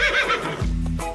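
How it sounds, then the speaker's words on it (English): A horse lets out a loud, close whinny, a shrill quavering neigh that drops into a deep snorting rumble toward the end. "That's a horse."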